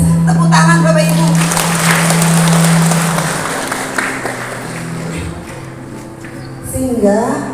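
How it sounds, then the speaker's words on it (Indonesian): An audience at an inclusive-school information session at a junior high school in Jatilawang claps together in a dense, steady burst that fades over several seconds, with a low hum and some voices underneath. "Tepuk tangan Bapak Ibu."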